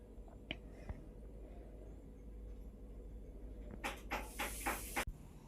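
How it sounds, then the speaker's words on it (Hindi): Someone knocks on a home's door from outside: a quick cluster of several sharp, muffled raps near the end, fairly faint, over a quiet room hiss with no talking. "तो यहाँ पे दरवाज़ा बजने की आवाज़ आ गई है क्योंकि कोई दरवाज़ा बजा रहा था बाहर में।"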